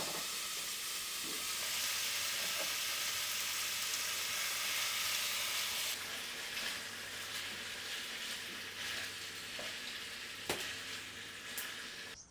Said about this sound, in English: put the meat in to fry and stew a little